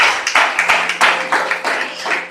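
A church congregation breaks into rhythmic applause at a French-language service, many hands clapping together in a loud, steady beat.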